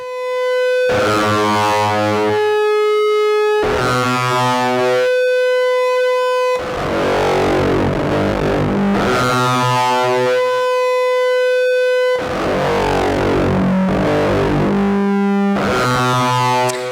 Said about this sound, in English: I leave just my high frequency, which is my Larsen effect